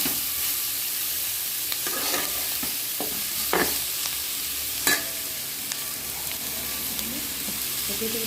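Dried fish sizzling and being stirred in a pan with onion, garlic, chili and salt, giving a steady close frying hiss broken by scraping stir strokes, with no talking.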